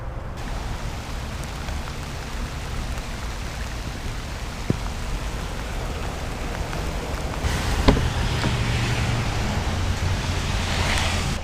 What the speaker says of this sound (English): Uh-oh, there's the rain.